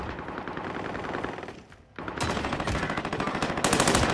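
Rapid automatic gunfire crackles in the video game Call of Duty: Modern Warfare, dense bursts of shots, a brief lull, then heavier, louder volleys close by.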